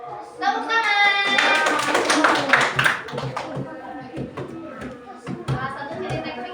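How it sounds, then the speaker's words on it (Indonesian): Hands clap in a primary school Indonesian-language class, with a burst of quick, close claps mixed with talking voices, then scattered lighter taps. "Tepuk tangan."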